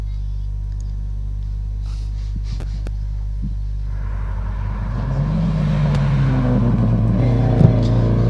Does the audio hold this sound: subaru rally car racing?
yes